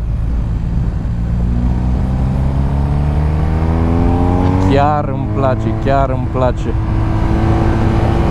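A BMW motorcycle at high revs on the MotorPark Romania race circuit gives a loud continuous engine roar with rising pitch, then quick wavering rev changes as someone talks over it.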